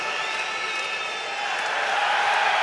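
A handball arena crowd at the 2013 EHF Champions League final between FC Barcelona and HSV Hamburg sends up a continuous roar that swells slightly toward the end.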